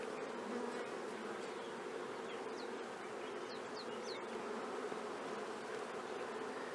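Dense, continuous buzzing of many honeybees in an open hive close by, with a few individual bees droning past.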